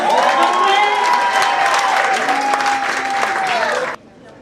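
Loud, close applause and cheering from a crowd at a South Sudanese university students' dinner in Kenya, with a voice ringing out over the clapping before it cuts off abruptly near the end.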